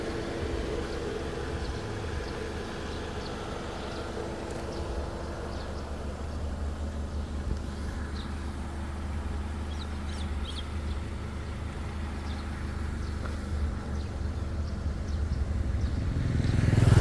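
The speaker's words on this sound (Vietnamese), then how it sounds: "Máy chạy rất êm." An automatic Hyundai i10 runs smoothly with its engine at a steady, quiet hum under faint background noise, swelling slightly toward the end.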